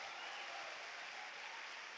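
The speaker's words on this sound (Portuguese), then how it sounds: "Vamos aplaudir esse nosso Deus." A church congregation applauds during a service, producing a faint, even wash of clapping heard from a distance that holds steady for about two seconds.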